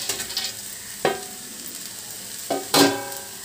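Tomato rice with soaked peanuts stirred in a pan, heard as a few distinct scraping strokes against the pan over a faint sizzle, with no voices.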